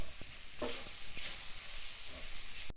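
Flour cooking in a pan for a vegan creamy mushroom lentil stroganoff, with steady soft sizzling and a few scraping stirs over about three seconds, close and moderately quiet, no voices.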